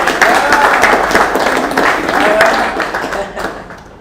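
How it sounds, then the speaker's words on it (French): Audience applause in a lecture hall, dense continuous clapping that fades toward the end. "Est-ce que ça ne mérite pas quand même des applaudissements?"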